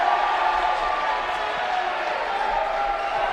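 A small crowd at an Augsburg vs Macalester college men's basketball game roars steadily through the gym, a constant wash of cheering at moderate distance with a commentator's voice running over it.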